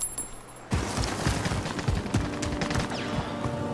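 Rapid gunfire in a battle royale shooter, a quick run of sharp close shots and thuds starting abruptly after a quiet moment and continuing steadily, fairly loud.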